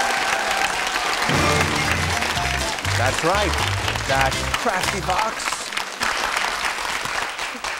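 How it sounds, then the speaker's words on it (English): A studio gallery applauds quiz contestants on a children's quiz show, steady clapping running throughout beneath a host and contestants talking over it. "A lot of applause from the gallery."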